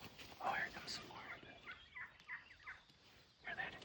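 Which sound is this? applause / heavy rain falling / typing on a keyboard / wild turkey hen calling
wild turkey hen calling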